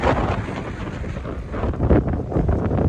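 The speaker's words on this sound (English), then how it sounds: "Man, it is windy today." Strong wind buffets the microphone outdoors on a road during a long walk across Asia, loud rumbling gusts that swell and fade throughout.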